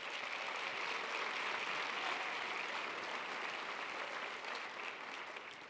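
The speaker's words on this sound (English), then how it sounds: "Can you give them a big round of applause?" An audience at a talk on AI and emerging technology applauds for the production crew, a dense, steady wash of many hands clapping that holds for several seconds and tapers slightly at the end.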